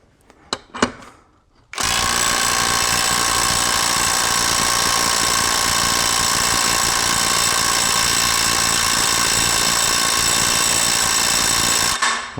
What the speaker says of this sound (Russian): Скорость на откручивание 10 секунд. Вот на эту вот гаечку.